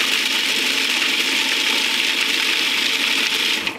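A food processor runs steadily at high speed, mixing in extra virgin olive oil, a loud, close whirring drone that holds constant and then cuts off near the end.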